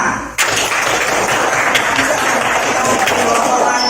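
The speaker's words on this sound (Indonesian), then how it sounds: "Tepuk tangan." Elementary school students in a classroom break into loud, sustained applause right after a brief voice, the dense clapping continuing steadily to the end.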